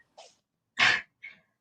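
A single sharp, loud human sneeze sits close by, with a short intake of breath just before it and a quieter exhale just after.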